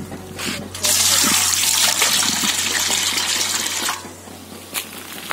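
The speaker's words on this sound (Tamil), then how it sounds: "நல்லா கழுவிக்கணும் அரிசியை." Water sloshing and splashing as rice is rinsed by hand for a village-style varagu rice biryani, a steady loud swishing and pouring burst lasting a few seconds before easing into quieter trickles.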